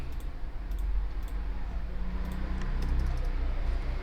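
Fingers tap out a command on a computer keyboard, a quick run of light clicks over a steady low hum of background noise.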